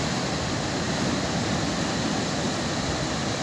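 Large Pacific surf pounds an island coastline, a continuous close wash of breaking whitewater filling the whole stretch at a constant loud level.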